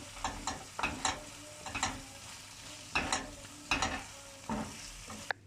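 Potatoes seasoned with salt and chili powder are stirred in a frying pan, a spatula scraping in repeated bursts about once a second over a soft, steady sizzle, close by with no talking.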